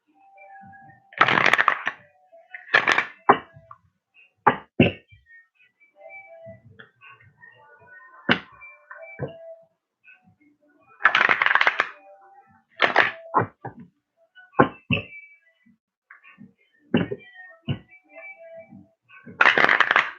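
Energy oracle cards being shuffled by hand in bursts of riffling and soft slaps, with short pauses between bursts and no talking, close and clear.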